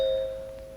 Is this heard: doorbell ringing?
yes